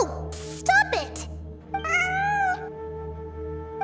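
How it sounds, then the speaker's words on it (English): A cat meows repeatedly in the video game Genshin Impact, loud, close, drawn-out cries with wavering pitch, several short ones followed by a longer wail, over steady low background music. "It really is a cat."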